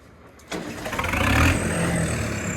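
Quiet at first, then a vehicle engine cranks on its starter, catches and settles into a loud, steady idle.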